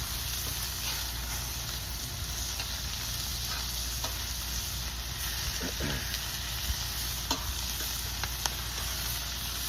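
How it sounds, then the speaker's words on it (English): Onions caramelize in a pan over an outdoor wood fire with a soft, steady sizzle and a few scattered pops and crackles. "The onions are starting to caramelize really well."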